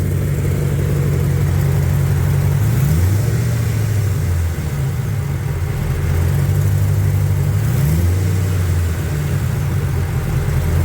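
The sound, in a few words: car engine revving with exhaust leak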